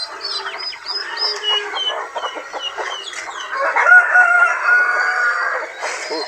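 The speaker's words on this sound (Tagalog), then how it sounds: "pinawala na rin ni Joel yung iba nating mga sisiw" Chickens and chicks on a farm, with loud, close clucking and crowing that overlap almost without a break.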